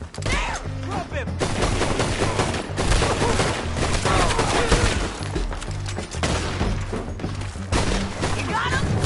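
Heavy gunfire in a Red Dead Redemption 2 shootout, dense overlapping shots and bursts sustained loudly throughout under frequent shouting voices.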